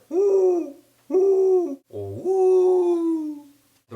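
A white-tipped dove gives low, hollow, foghorn-like hooting calls, three drawn-out moaning notes in close succession with the last one longest, clear and up close.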